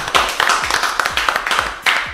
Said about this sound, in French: applaudissements quand même pour Julie